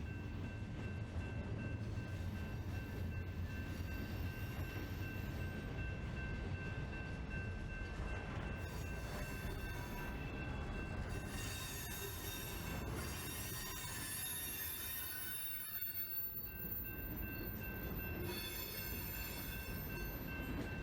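A CSX freight train rolls past nearby for the whole stretch, wheels squealing and rumbling with a steady high-pitched screech over heavy low rumble.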